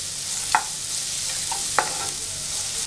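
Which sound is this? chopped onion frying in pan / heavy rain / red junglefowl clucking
chopped onion frying in pan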